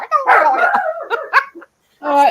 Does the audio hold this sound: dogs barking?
yes